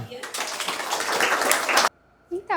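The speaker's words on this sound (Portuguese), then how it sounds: "Palmas para a Maria." A small audience in an online climate class claps together in a dense burst of applause lasting under two seconds, then stops abruptly as a voice resumes.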